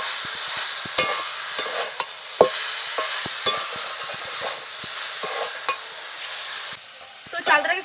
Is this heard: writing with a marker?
no